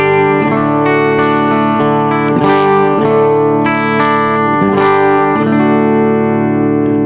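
Electric guitar through a Wampler Thirty Something overdrive pedal with treble fully off: distorted chords ring out steadily with a dark, muffled tone, strummed in a repeating pattern with little top-end bite.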